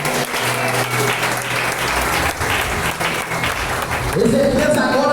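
A church congregation at an evangelist's preaching service claps loudly and steadily throughout, with a voice and some tonal sounds carrying over the applause.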